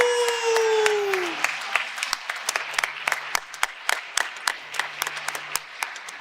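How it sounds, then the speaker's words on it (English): Audience applause at a sustainability conference opening ceremony, with cheering at first and a tone sweeping downward, then scattered, thinning claps fading over several seconds. "give a big AASHE round of applause to all of our contest winners"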